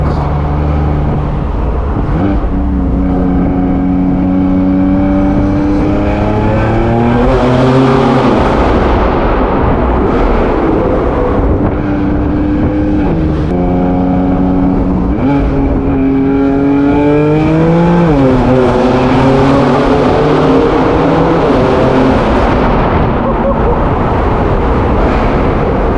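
A 1000 hp BMW M4 F83 convertible with turbos and downpipes accelerates hard through repeated gear pulls, its loud exhaust rising and dropping in pitch, with turbo whoosh, close and dominant throughout.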